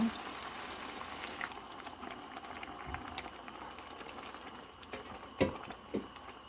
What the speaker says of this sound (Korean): 국물이 끓기 시작해서 콩비지를 넣어줄게요